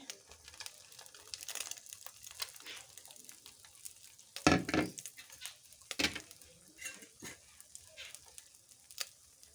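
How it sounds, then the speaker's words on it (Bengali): Fried capsicum and chopped carrot go into a pan with a soft, quiet sizzle, broken by a few sharp clatters and scrapes of stirring. "এবার আমি ভেজে রাখা ক্যাপসিকাম গাজর কুচি এগুলো দিয়ে দিচ্ছি"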